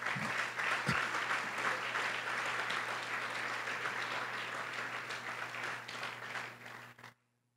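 A church congregation applauds together in a steady, dense wash of clapping that holds for about seven seconds before cutting off abruptly, with a low hum running underneath.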